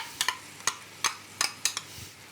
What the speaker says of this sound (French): Je mélange bien l'ensemble